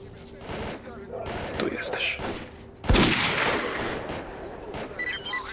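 Gunfire in the video game STALKER: Clear Sky, with bursts of rifle shots and one heavy close blast amid a noisy battle soundscape, while a voice talks over the action.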